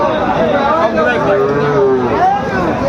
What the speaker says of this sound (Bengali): এখানে কোয়ালিটি সম্পন্ন একটা ষাঁড় বাচ্চা।